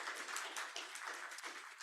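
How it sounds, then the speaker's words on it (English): Audience applause at the close of a talk about the whales of New York, a steady, dense patter of many hands that sounds fairly distant and soft and holds evenly throughout. "let's have another round of applause for Julia Zay"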